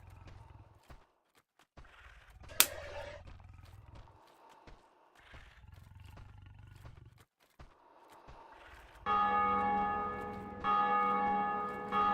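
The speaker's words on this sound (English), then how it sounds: "You hear the bell ring, that means someone really rang the bell." A bell in the video game Demon's Souls rings with a loud, sustained metallic tone in two long strokes near the end, after a stretch of low, rumbling, growling ambience and scattered clanks.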